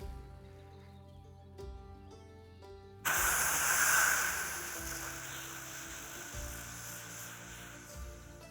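A Teren 4 aerosol pepper spray canister of about 65 ml bursts into a loud, steady hiss that swells and then tapers off over several seconds, preceded by quiet background tones.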